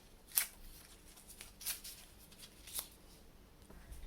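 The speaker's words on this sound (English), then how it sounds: "when you've got the strips, you want to cut them or rip them into smaller pieces" Strips of paper torn by hand into smaller pieces for a toddler's craft, heard as three quiet, short rustling tears spaced about a second apart, with no voices.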